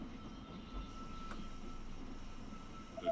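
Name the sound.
train arriving at station in They Are Billions video game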